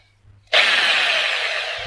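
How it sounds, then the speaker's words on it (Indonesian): A power drill bites in abruptly and runs as one loud, steady whine during a solar panel inverter replacement, with quiet room noise just before it starts. "sekarang kita bor"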